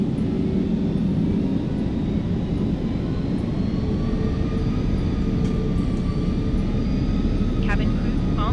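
Airliner jet engines in Microsoft Flight Simulator 2024 spool up with a steady, loud roar and a slowly rising whine, while a voice talks over them throughout.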